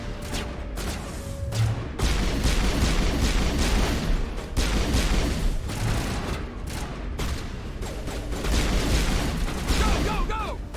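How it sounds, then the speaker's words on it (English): Enemies in Mass Effect Legendary Edition, on the Citadel, fire at the player in continuous heavy volleys with booming hits, steady throughout and mixed with voices talking over the combat. "What is with everyone shooting at us?"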